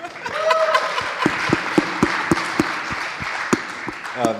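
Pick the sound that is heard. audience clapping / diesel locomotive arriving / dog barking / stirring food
audience clapping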